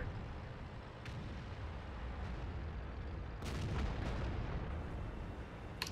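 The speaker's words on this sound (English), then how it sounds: "our Super Pershing is taking fire from their guys who are now pushing somewhat aggressively" Tank cannon fire in the World of Tanks video game: a few heavy booming shots, with one sharp close blast midway and another near the end, over a low rumbling battlefield ambience.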